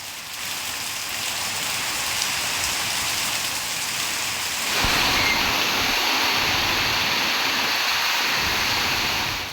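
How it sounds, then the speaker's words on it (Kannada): Heavy monsoon rain pours steadily in Karnataka's Sakleshpur area, a dense continuous hiss that grows slightly louder and fuller halfway through. "ಬಿಟ್ಟು ಬಿಡದೆ ಮಳೆ ಸುರಿಯುತ್ತಿದೆ"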